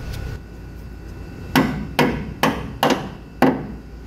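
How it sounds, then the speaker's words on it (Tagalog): A hammer tapping a brake clip into place on a Wilwood DynaPro big brake kit, five sharp metallic strikes at uneven intervals, close, over a low background hum. "Kailangan pukpukin. Kuha ng martilyo."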